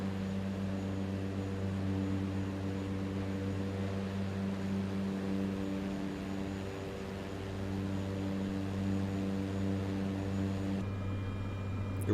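Airplane on the runway at Spokane, Washington in Microsoft Flight Simulator 2024, a steady droning engine hum with layered tonal whine held throughout, fairly quiet and alone, cutting off near the end.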